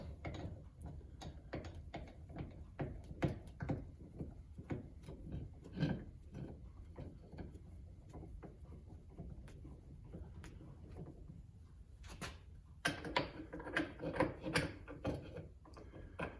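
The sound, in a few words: bench vise being opened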